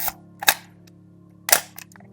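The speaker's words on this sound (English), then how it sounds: "pull that rewind trigger and also release the shutter" Sharp mechanical clicks of a Nikon FM2 film camera shutter and rewind lever, two loud snaps a second apart with smaller clicks, over a faint steady hum.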